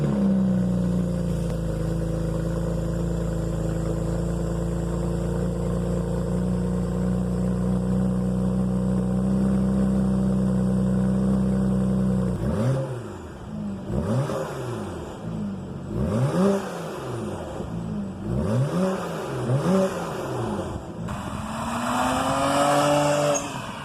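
A BMW N54 engine fitted with an aftermarket downpipe cold-starts into a steady, loud high idle that drones for about twelve seconds, then revs sharply several times in quick rising and falling bursts, close by.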